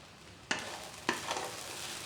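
Sabudana (sago) khichdi with coriander stirred in a non-stick pan after the heat is off, with two distinct scraping strokes over a soft, fading sizzle.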